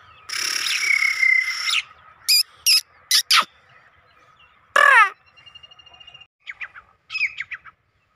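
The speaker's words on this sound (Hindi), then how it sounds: "गोरे तितर की आवाज़ सुनी है" A grey francolin calls out in a jungle, a loud run of harsh, piercing, repeated notes in short bursts with gaps between, close and clear over a quiet outdoor background.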